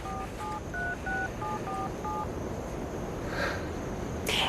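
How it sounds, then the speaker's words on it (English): Cell phone keypad tones beep in a quick series of about eight short dual-tone presses, clear and close. A brief rustle and click follow, with no talking. "I'll call Hannah."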